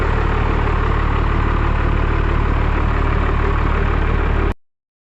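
A Cummins 12-valve diesel pickup engine idles loud and steady right after starting, a constant low rumble that cuts off abruptly near the end.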